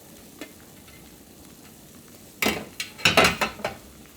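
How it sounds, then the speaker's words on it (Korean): Broth bubbles with carrot, onion and green onion until fried tofu goes in. A quiet simmer gives way to loud, close splashing and sizzling bursts as the tofu is added and the pot is stirred. "막 끓고 있죠? 이럴 때 유부를 넣으세요."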